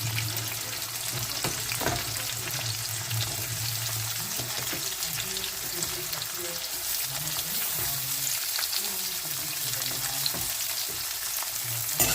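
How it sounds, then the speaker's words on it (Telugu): Thinly sliced onions and green chilies fry in hot oil in a pan, a dense steady sizzle with faint stirring scrapes, close and constant for the whole stretch, with no speech over it. "ఉల్లిపాయలు, పచ్చిమిరపకాయలు బాగా వేయించుకోండి మంచిగా."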